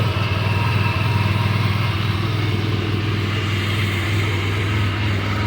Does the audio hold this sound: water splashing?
no